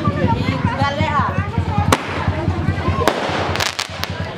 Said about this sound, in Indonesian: Suara ledakan petasan tadi bukan cuma mainan loh